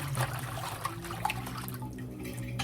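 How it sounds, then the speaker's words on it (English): Red dye is stirred into a bucket of water for tie-dyeing, giving soft sloshing and swirling splashes with a few faint knocks against the bucket. "I'm gonna put some red in the first bucket, and I'm gonna stir it"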